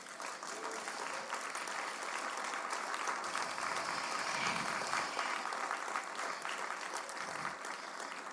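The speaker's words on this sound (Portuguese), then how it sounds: "E você pode aplaudir a palavra do Senhor" Steady applause from a church congregation during an evening sermon fills the whole stretch, a dense, even wash of many hands clapping at fairly constant loudness.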